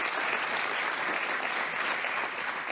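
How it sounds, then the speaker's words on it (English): Even applause from an audience at a New York governor's event on solar energy goals, dense and uniform and fairly distant, with no clear speech on top. "Let's give that a round of applause."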